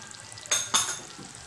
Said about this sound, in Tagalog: ilagay na natin ang ating supo o hipon